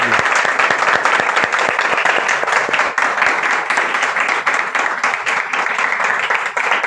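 Loud, dense clapping from a church congregation during a sermon, a sustained close-up patter of many hands that keeps going without a break.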